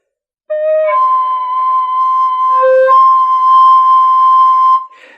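Side-blown spirit flute played with a finger hole not fully covered gives a wavering, unstable tone that jumps between pitches before settling on a higher held note, close and alone.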